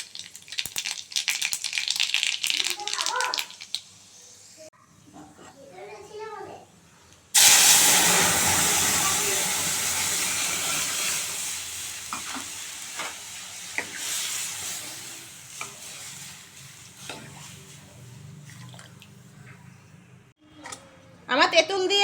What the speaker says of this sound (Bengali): ডালটা ফোড়ন দেবো, তেল গরম হয়ে গেছে কড়াইতে